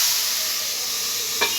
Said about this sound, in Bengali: সবজিটা, চচ্চড়ির সবজিটা বেশ ভাজা ভাজা হয়ে গেছে।